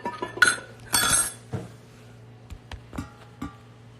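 A chilled glass clinks and knocks against bar tools while a gin cocktail is made, giving a few sharp chimes and then lighter scattered taps over a low steady hum.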